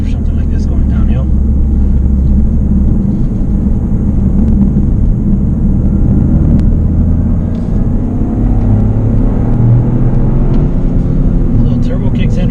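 Toyota GR Corolla engine pulling hard on a steep downhill road, a loud steady drone and rumble with faint whistling turbo spool rising above it, continuous throughout with no pauses.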